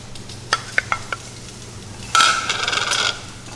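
Spoon stirring a mixture of cauliflower, vinegar and baking soda, a few light clinks against the container followed by a short burst of fizzing bubbling and scraping, close and alone.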